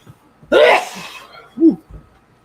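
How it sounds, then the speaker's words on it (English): A single sharp sneeze bursts out up close, followed after a short pause by a softer breathy sound. "don't mean to sneeze at you"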